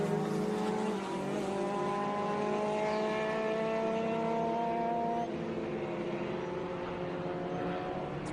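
Lola T70 Mark IIIB race car at Sebring, its engine a steady, loud, rising drone with clear gear-like harmonic sweeps that climb and shift, heard continuously without talk.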